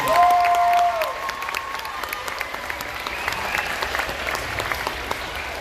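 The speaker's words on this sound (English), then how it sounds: "Let's go ahead and give them a round of applause." Sustained applause from an audience at an elementary school awards ceremony, steady clapping throughout with a brief tone at the start, moderately loud and a little distant.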